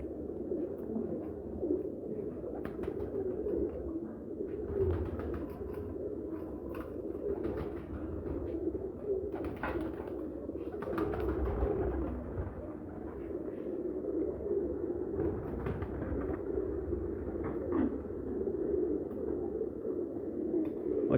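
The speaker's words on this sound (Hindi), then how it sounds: "ये जो कबूतर हैं" Several pigeons coo steadily at a breeder's loft, a low continuous murmur of overlapping coos that runs the whole time with no talk over it.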